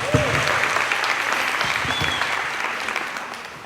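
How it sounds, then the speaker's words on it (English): Steady applause from a crowd at a women's wellness event, loud and dense from the start, slowly tapering toward the end. "please give her a round of applause"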